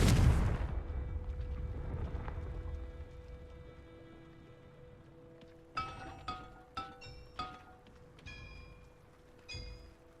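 A Confringo fire spell explodes in Hogwarts Legacy, a loud booming burst at the start that decays into a low rumble, followed by a string of sharp, ringing magical impacts and chimes with no talking.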